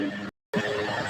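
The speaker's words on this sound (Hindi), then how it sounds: "HORSE" A horse neighs in a sharp, close whinny that is cut by a brief gap of silence and then resumes, loud and alone with no talk over it.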